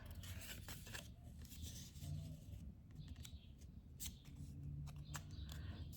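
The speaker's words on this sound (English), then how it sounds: "So let's go ahead and fold along the score lines." Light cardstock pages for a mini book ornament are creased along score lines, giving soft close scraping and rubbing strokes over a low steady room hum, with no talking.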